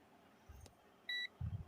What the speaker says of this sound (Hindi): हमें अलार्म की आवाज़ आ रहा है